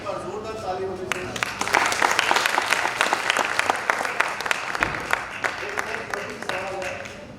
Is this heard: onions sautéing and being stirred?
no